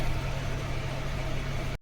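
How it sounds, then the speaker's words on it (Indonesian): A blender whirs steadily with a low, even motor drone while blending jackfruit pieces for a pudding, running alone and close before cutting off abruptly near the end. "Nangkanya aku mau blender dulu ya"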